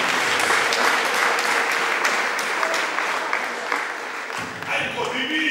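A church congregation applauds with sustained, dense clapping that fills the room for several seconds, with voices mixed in beneath it.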